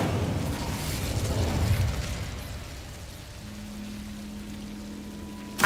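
A fire spell cast in the wizarding game Hogwarts Legacy, a whooshing, crackling burst of flame in the first couple of seconds, fading into a low ambient hum before a sharp pop at the very end.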